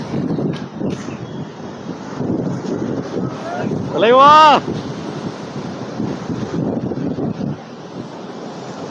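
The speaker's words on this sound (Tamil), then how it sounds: "தண்ணி எப்படி ஓடுது பாருங்க தலைவா." Rushing river water released at Kallanai dam, a steady broadband wash with wind buffeting the microphone, while excited voices talk and shout throughout and one loud cry rises briefly midway.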